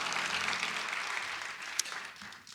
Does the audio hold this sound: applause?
yes